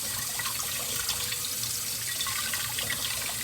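Potatoes are rinsed and rubbed by hand under a running kitchen tap, a steady close hiss of flowing water splashing into a sink throughout, with no talking.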